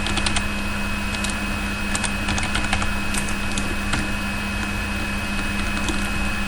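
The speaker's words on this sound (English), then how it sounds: "I will type assignment." Keys on a computer keyboard clatter in quick, irregular bursts of clicks while a title is typed into a Word document, close and crisp over a steady background hum.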